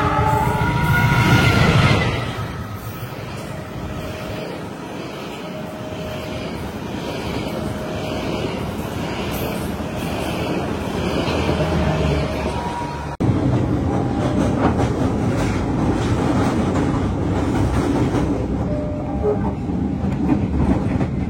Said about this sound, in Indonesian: Dan ini sekarang kita nungguin kereta Malabar lewat